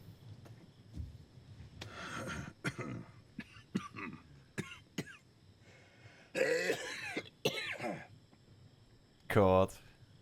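A few sharp coughs and throat-clearing bursts from a character in a Better Call Saul episode, the loudest near the end, set among quiet dialogue and small rustling movements.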